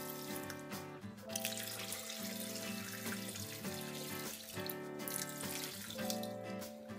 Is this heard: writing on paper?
no